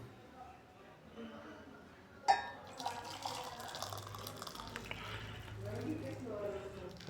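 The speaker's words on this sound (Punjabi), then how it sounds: "ਪਾਣੀ ਨੂੰ ਪਾ ਲਓ ਤੁਸੀਂ ਆਪਣੇ ਕੱਪ ਦੇ ਵਿੱਚ ਉਬਲੇ ਪਾਣੀ ਨੂੰ" Freshly boiled water is poured from a pan into a cup while green tea is made at home. A sudden splash starts the pour, which becomes a steady, close liquid stream under ongoing talk.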